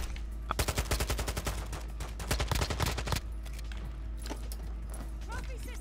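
Gunfire from a gun in Modern Warfare II's DMZ mode, set to semi-auto, crackles in rapid bursts of shots over the first three seconds, then gives way to quieter game ambience and movement.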